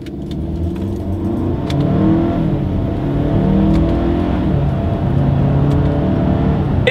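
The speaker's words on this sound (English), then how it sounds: "let's go ahead and put the paddle shifters here to the test" A 2022 Hyundai Santa Cruz pickup pulls away from a standstill, its engine rising steadily under acceleration with paddle-shifted dual-clutch gear changes, heard from inside the cabin as a continuous loud hum with faint clicks.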